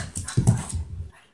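A puppy whimpers and pants close by in a quick string of soft yelps and breathy huffs, then falls quiet.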